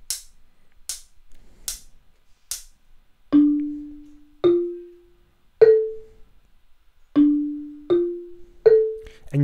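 Four sharp dry clicks count in, then short plucked low notes play the 'Drunken Sailor' bassline in a spaced, repeating rhythmic pattern, close and clear.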